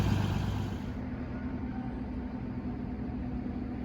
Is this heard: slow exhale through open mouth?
no